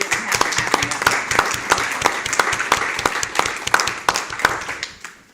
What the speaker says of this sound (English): So I just have to give y'all a round of applause